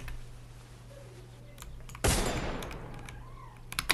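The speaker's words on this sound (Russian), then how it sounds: "Почему все в меня стреляют?" A single loud burst of gunfire in the Free Fire video game, sharp and close, fading into a rough decaying tail over a steady low hum, with faint clicks and a few small pops afterward.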